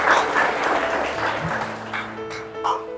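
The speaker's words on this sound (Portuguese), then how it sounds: "Pode aplaudir a palavra de Deus" A church congregation at a parish feast Mass applauds after a scripture reading, a moderate wash of clapping that thins out as a sustained tone and some murmuring rise beneath it.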